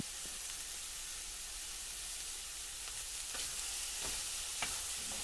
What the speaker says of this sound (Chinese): 接着将其翻炒均匀